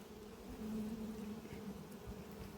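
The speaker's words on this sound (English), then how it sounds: "there's a hornet hovering around" A low buzzing drone of a hovering hornet at an apiary, steady and fairly faint, rising slightly in the middle over quiet outdoor background.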